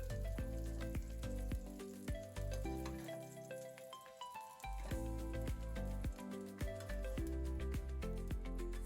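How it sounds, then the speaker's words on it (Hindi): Chopped jackfruit fries in oil in a kadhai with a constant crackling sizzle and intermittent scrapes and knocks of stirring, heard up close and with no talking. "इसे हम अच्छी तरह से फ्राई कर लिए हैं"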